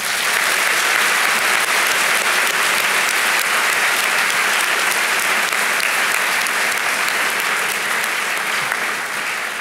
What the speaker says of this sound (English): So can we please have a round of applause to thank all the schools involved?